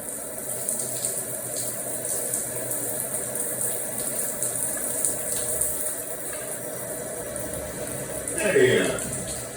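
Shower water running steadily as a broad hiss, with a brief louder splash or gush near the end; faint voices sit under the flow.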